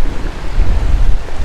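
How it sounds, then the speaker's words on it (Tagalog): Strong wind roaring and buffeting close to the microphone, a dense low rumble that gusts and swells without pause. "Uy, lakas ng hangin."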